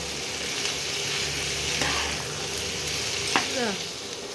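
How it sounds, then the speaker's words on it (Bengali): Potato and kohlrabi frying steadily in a pan, a constant close sizzle with occasional scraping clinks from stirring. "এবার আলুটাকে ওলকপির সঙ্গে একসঙ্গে ভেজে নেব।"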